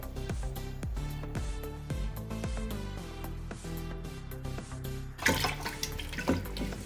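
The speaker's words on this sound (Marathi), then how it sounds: "बटाटे छान असे धुवून घ्यायचे आहेत" Music with plucked notes plays steadily, then water starts running and splashing loudly near the end as potatoes are rinsed.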